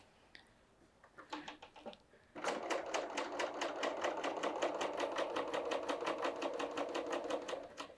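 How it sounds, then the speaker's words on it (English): A serger sewing machine trims fabric along a marked line, starting with a few short stitching bursts, then running fast and steady with a rapid, even, close mechanical chatter. "this is the cutting edge, which means this will be cutting right along my marked line."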